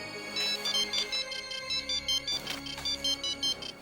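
Melodic phone ringtone of an incoming call, repeating in bright rhythmic bursts over a low background tone, fairly close and steady with no talking.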